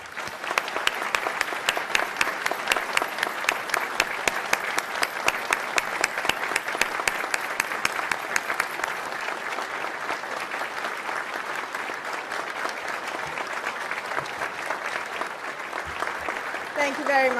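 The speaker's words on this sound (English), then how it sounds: "Let's applaud in their honor for 1 minute." An audience at a gathering of Iranian communities in California applauds steadily for a long stretch, dense clapping filling the room at constant strength, with a voice briefly heard near the end.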